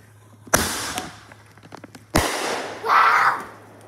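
Independence Day fireworks going off outdoors: two sharp, loud bangs a second and a half apart, each followed by crackling pops, then a hissing, fizzing burst trailing off.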